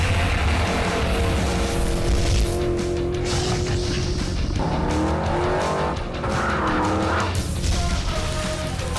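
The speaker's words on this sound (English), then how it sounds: "The ground-pounding, earth-shaking beast of the Big Block Modified Super Dirt Car Series!" Big Block Modified dirt track race cars roar around a Super Dirt Car Series track, a loud, sustained engine blare with shifting pitches as several cars pass close, with bursts of tire noise.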